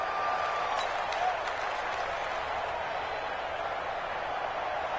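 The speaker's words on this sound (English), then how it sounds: "The crowd's not doing that O-line any favors." Stadium crowd noise in a football video game, a broad steady roar with cheering and applause that stays constant throughout, moderately loud, with no clear speech.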